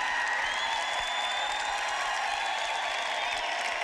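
A section of an audience at a church speaking event claps steadily for several seconds, a dense, even patter of applause from a moderately distant crowd in a large hall.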